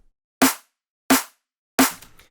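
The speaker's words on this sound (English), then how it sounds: "On the snare drum, we did layer a few more sounds." Three sharp, punchy hits of a layered snare drum sample for a drum and bass track, spaced evenly apart, each with a bright crack and short decaying tail, played alone.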